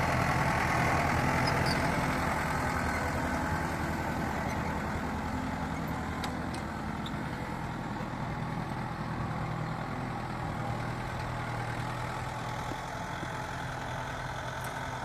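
A four-wheel-drive tractor pulling a five-tyne cultivator through a field gives a steady, continuous engine drone that holds at an even level throughout, with no talk.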